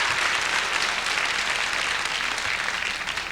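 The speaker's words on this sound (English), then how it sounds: "I want some applause for that." Comedy club audience applauding a stand-up comedian, a dense, steady wall of clapping with no voices over it, easing slightly toward the end.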